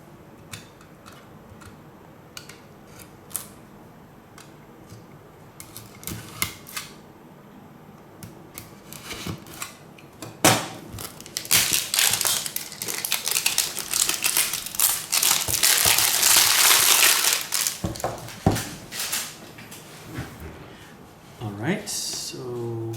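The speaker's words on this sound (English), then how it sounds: "So, I have a penknife right here. Let's cut open the seal." A penknife slices through the seal on a Sony WF-1000XM3 earbuds box, giving sparse clicks and crinkles that build into a dense, loud stretch of cutting, tearing and crumpling of packaging, with some talk.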